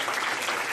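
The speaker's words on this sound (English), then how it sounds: "Give them a round of applause for the food." A crowd claps in a brief, dense burst of applause for the food at a lunch event, steady and fairly close throughout with no voices.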